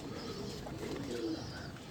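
A soft, low pigeon coo rolls out close by against a steady background noise, faint and continuous over two seconds.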